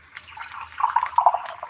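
Canned bean water drains out of an opened can, a close, steady liquid trickle and splatter that thickens into louder gurgling bursts toward the end.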